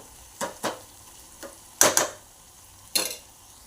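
Spice masala frying in oil for dhaba-style whole masoor is worked with a spatula, giving about five short, sharp scraping strokes in an uneven rhythm over a faint background.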